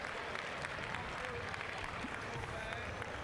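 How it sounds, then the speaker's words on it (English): A crowd at a varsity basketball game claps for prize winners, a continuous wash of applause at moderate level in a large gym, with crowd murmur and voices mixed in. "Let's give them a round of applause."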